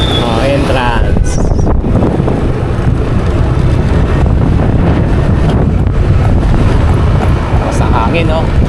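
Strong wind buffets the microphone continuously, a loud roaring rush with scattered voices underneath.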